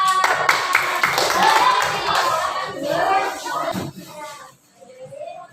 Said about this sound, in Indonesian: Beri tepuk tangan untuk kelompoknya Mas Syifa.